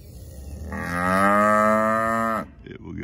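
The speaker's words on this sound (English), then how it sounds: "Bad cow." A cow gives a single long, loud moo close by, rising into a sustained droning call for about two seconds before cutting off, followed by faint rustling.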